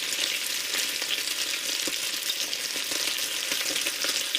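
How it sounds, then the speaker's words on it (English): Bacon fries in a pan with a dense, continuous crackling sizzle, close and even throughout, with scattered small pops and no voices. "if that sizzling sound made your mouth water"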